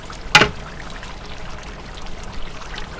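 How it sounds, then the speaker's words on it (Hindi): Water poured into a large pot of chicken pulao with meat, a brief sharp splash followed by a softer ongoing trickle and stir of liquid, close by with no speech. "अब हम इसमें पानी डालेंगे।"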